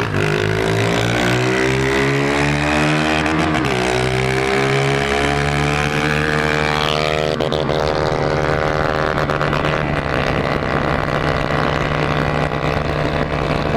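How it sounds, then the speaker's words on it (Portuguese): A small off-road motorcycle engine revs on a dirt trail ride, rising and falling in pitch through repeated throttle pulls, loud and close for the whole stretch. "Vamos acelerar essa porra!"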